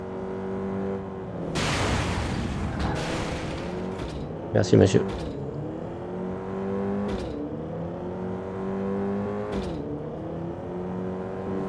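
A stolen civilian car driving in the Pursuit Force video game, a steady engine hum with a few sharp impacts and bursts, while someone speaks French over the game sound.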